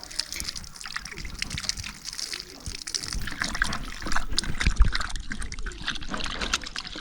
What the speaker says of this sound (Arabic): هنايا جيت غسلت المعدنوس، غسلته مزيان